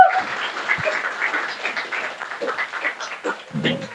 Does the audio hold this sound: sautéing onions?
no